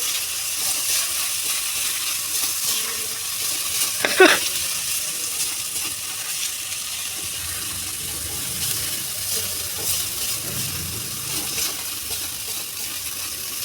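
Spices and masala frying in oil in a pan while cooking a pea dhoka curry, giving a steady soft sizzle with a brief louder stir or clatter partway through.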